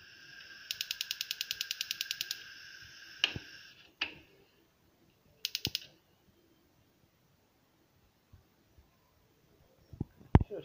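A newly replaced piezo igniter module on a gas stove fires a rapid run of sharp clicks, then a couple of separate knocks and a short second burst of clicks, with scattered quiet taps afterward.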